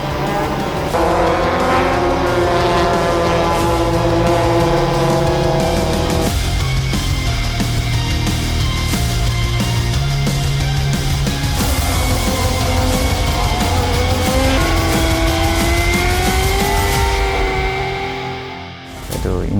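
Race cars on the first lap of a race, loud engines droning and shifting pitch continuously as they pass, with no pause throughout.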